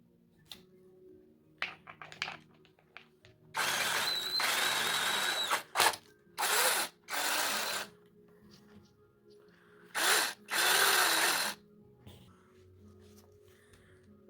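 A hand drill spins a polishing pad from a headlight restoration kit in several whirring bursts of differing length, separated by quiet pauses and faint handling clicks.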